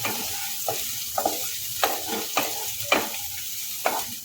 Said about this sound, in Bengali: আবারও মিনিট খানেকে নাড়বো